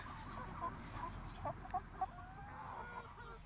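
Seventeen-week-old young laying hens cluck softly in a quiet coop, a handful of short, sharp clucks popping out over a faint low background hum.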